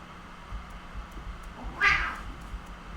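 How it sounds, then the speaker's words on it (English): Cats fighting, with one loud yowling caterwaul near the middle rising over a low room hum. The sound is mid-distance and otherwise quiet. "The cats are fighting"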